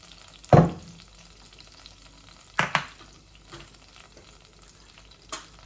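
Egg and potato fry in oil in a pan, making a soft, low sizzle broken by a few sharp scraping stirs spaced a second or two apart.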